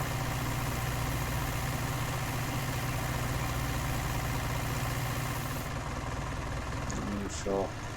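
A tractor engine idles during the 1966 sugar beet harvest, a steady, close, low mechanical rumble that runs throughout, with a brief voice near the end.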